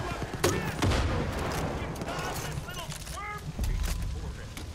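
Gunfire in Far Cry 5 crackles in bursts over a dense, noisy background of game action, with sharp shots near the start and then further scattered shots, while people talk throughout.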